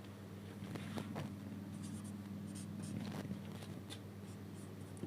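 A pen writing a math question on paper, faint scratchy strokes in short bursts over a steady low hum, close and quiet, with no talking.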